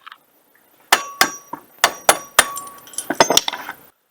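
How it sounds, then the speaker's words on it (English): A hammer knocks broken plastic pieces out of a pool cover reel wheel, about a dozen sharp, ringing clinks and clacks in an irregular rhythm, close and clear with no talk. "I'm just going to take a hammer and try to bust all the pieces out of there"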